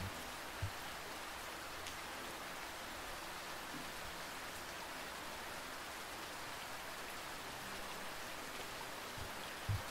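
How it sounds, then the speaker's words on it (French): Rain falling on wet city streets and sidewalks at night, a soft, even, continuous hiss of drops with a couple of faint isolated taps, steady and fairly quiet throughout. "regarder la pluie tomber et nettoyer la ville"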